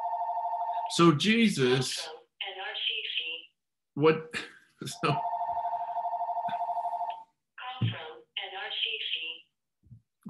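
A phone rings in repeated electronic trilling bursts, fairly close, interleaved with someone talking.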